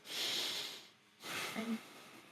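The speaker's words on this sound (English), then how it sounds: "take a deep breath" A long, airy inhale drawn in through the nose, a short pause, then a slow audible exhale, close and breathy.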